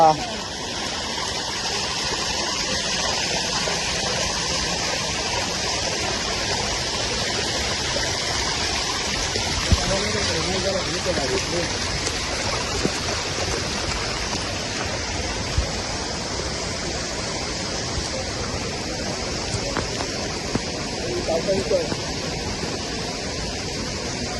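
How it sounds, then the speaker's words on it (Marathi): A flowing stream rushes steadily in a broad, even wash of water noise, close and unbroken for the whole stretch, with no clear voices over it. "पाणी पण मस्त वाहते इकडे"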